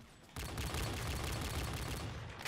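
Rapid gunfire from a Barrett rifle in a zombies custom-map shooter game erupts after a brief quiet start, then holds as a dense, loud, continuous burst of shots to the end.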